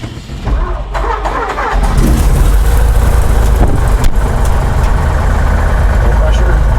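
A Cessna 172B's piston aircraft engine catches after priming and settles into a loud, steady, close-up roar that fills the rest of the clip.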